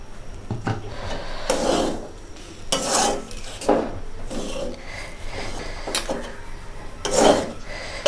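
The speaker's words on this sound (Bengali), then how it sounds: "আমি আটাটা নাড়াচাড়া করে সুন্দর করে একটা ডো তৈরি করে নেব।" Dough for spicy pitha is stirred in a pan of flour and hot water, a wooden spoon scraping and knocking against the pan in irregular repeated strokes, fairly close.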